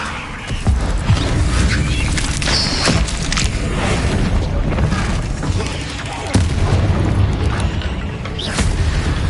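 Confringo blasting-spell explosions in the video game Hogwarts Legacy, a dense run of booming blasts and cracking impacts that fills the scene, with a voice calling out spell names over it.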